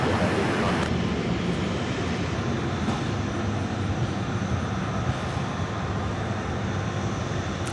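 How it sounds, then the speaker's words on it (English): MD-11 airliner arriving at Louisville International Airport, a steady, fairly distant jet roar sustained across the clip without voices. "is this the last MD-11 arrival of the day?"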